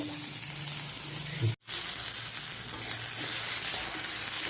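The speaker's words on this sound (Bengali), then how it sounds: "প্রথম তেল দিয়ে দিয়েছি কড়াতে, সর্ষের তেল। এবার পেঁয়াজগুলোকে দিয়ে দিচ্ছি" Onions fry in mustard oil in a wok with a constant, dense sizzle, close by, broken by a split-second gap partway through before the hiss resumes.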